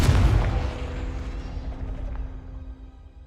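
A Confringo blasting spell goes off in Hogwarts Legacy: a single loud, deep boom at the start whose rumble fades slowly over about three seconds, with no voices.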